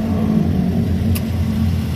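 A manual 2017 Toyota Rush TRD idles nearby with its air conditioning running, a steady low engine rumble with a brief faint click partway through.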